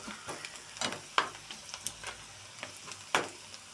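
Dried fish curry with turmeric is stirred in a frying pan: a soft sizzle under a string of irregular spatula scrapes and clacks, a few louder knocks standing out.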